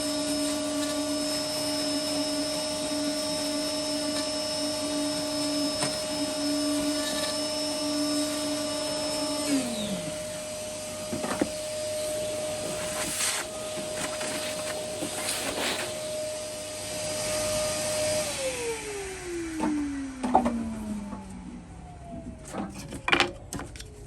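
A router fitted with a guide bushing cuts a recess into a wooden drawer front, a steady high motor whine with vibration that winds down twice as the tool stops, ending in faint scraping and handling noises.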